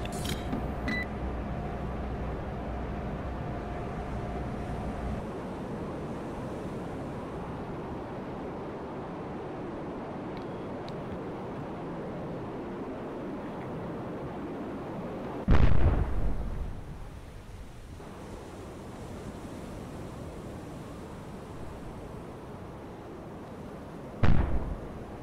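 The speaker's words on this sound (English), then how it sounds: "Missile launch detected." A missile launch in the submarine game Cold Waters sounds as a steady low rumbling bed, broken by a sharp loud burst mid-clip and a second brief burst near the end.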